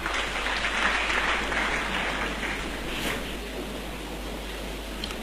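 A church congregation applauds the Lord during a French-language sermon, a dense, steady wash of clapping that fills the room and carries on throughout, easing slightly toward the end.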